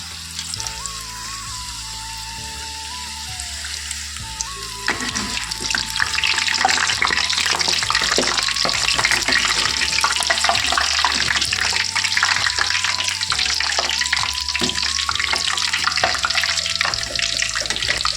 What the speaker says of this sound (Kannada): ಎಣ್ಣೆ ಚೆನ್ನಾಗಿ ಬಿಸಿ ಆಗಿದೆ. ಇವಾಗ ಒಂದೊಂದೇ ಪೂರಿ ಹಾಕೋಣ